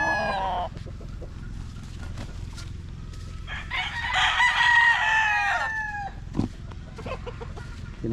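Chickens in a barn cluck and squawk close by, with a rooster letting out a long crow midway through, set against a low background hum.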